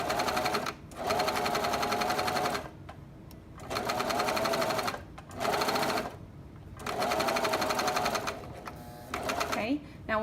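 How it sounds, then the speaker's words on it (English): A serger overlocking a shoulder seam on a relaxed raglan shirt runs in several loud bursts of steady mechanical whirring, separated by short pauses, with a faint voice underneath at times. "now when you are serging like you've practiced, you're just going to continue going until you can pull out a long tail"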